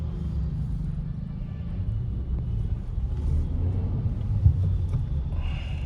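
A petrol manual Kia Seltos 2026 strains in first gear at a crawl, lacking low-end torque under extra load, heard from inside as a steady, close, low rumbling drone that swells slightly.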